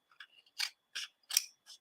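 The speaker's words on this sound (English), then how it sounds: "It's easier cutting with these scissors." Scissors snip through craft paper in four or five short, crisp cuts with brief pauses between them, close and quiet, with no talking.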